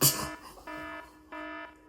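An alarm system sounds in repeated electronic tones, two steady beeps of about a third of a second each, following a brief noisy burst at the start.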